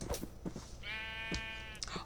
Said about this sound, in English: Oh, hold on, we got 1, 2, 3, 4, 5, 6, 7 sheep up here!